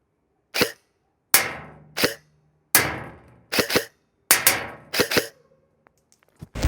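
A Nova Neptune MARSOC airsoft rifle fires BBs at a target 30 metres away, sharp cracking shots in irregular singles and quick pairs with silence between, each shot trailed by a brief ringing impact.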